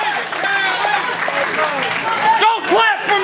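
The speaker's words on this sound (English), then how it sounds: "Don't clap for me. I know I'm great." A wrestling crowd claps and cheers at an independent show, a busy wash of applause and noise running under a ring announcer's amplified voice.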